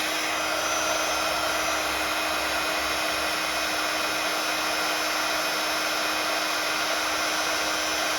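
An embossing heat tool blows hot air in a steady, loud, continuous whoosh with a constant whine, unbroken and with no talking over it.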